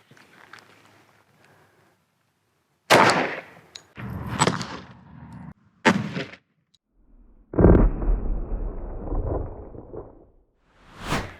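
Shots from a 10mm pistol strike a Level IIIA bulletproof backpack panel outdoors: several loud, sharp reports spaced a second or two apart, with one longer booming blast and its rumble, no speech.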